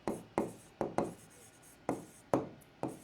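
Writing on a board during a math lesson: six or seven short scraping strokes in a quick, irregular rhythm, close and fairly clear, with no talking.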